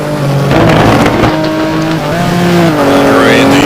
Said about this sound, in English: Underway in the Ferrari 575, practicing his starts there.